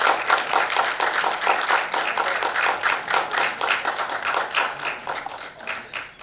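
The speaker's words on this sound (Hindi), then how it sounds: "जोरदार तालियां।" Loud, dense clapping from an audience at an awards ceremony honoring celebrities, a rapid continuous patter of hands that holds strong for several seconds before easing slightly.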